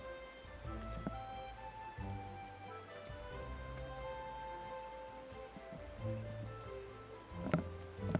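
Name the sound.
rain in Final Fantasy XIV video game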